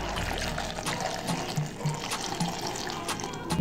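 Water pours and trickles steadily into a blender holding blueberries and sugar, a continuous close liquid splashing with small clinks throughout and no voices.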